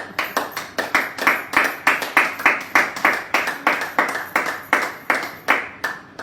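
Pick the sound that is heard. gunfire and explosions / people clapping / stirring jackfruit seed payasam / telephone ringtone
people clapping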